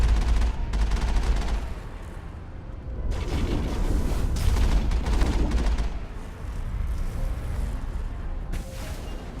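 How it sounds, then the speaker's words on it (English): Sustained bursts of rapid machine gun fire in the video game Mass Effect roar in dense waves with short lulls between them, loud and continuous with a game-like boom. "I'll just use the machine gun."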